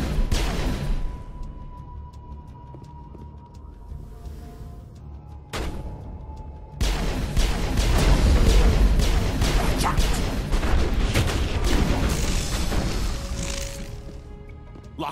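Mass Effect gunfire with corrosive chemical rounds, a few isolated shots followed by a sustained barrage of booming blasts and crashes, loud and dense throughout.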